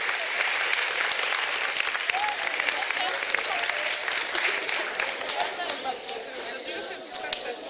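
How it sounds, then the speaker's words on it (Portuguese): Members of a parish prayer group applaud to welcome their parish priest, a crowd clapping in a full, continuous round that thins toward the end, with scattered voices under it. "recepcionassem o nosso pároco, o padre Petrus, com a salva de palmas"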